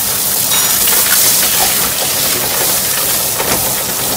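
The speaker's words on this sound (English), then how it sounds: "And then we're going to drop in some butter." Butter dropped into a hot pan beside pan-fried seabass, a loud, dense, continuous sizzle with crackling pops throughout.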